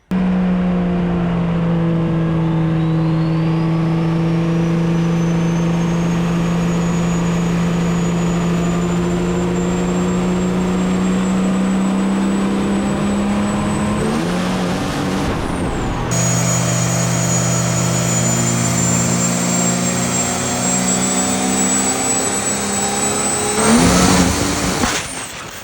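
A race car engine with a nitrous, turbo setup is spooled up and snapped to full throttle, roaring loud and steady with a high rising whine, cutting off briefly near the middle before revving hard again.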